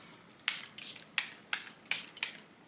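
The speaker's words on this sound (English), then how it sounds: "Last spray of setting spray." Makeup setting spray mists over a made-up face in about six quick, crisp pumps, close and fairly soft, with no talking.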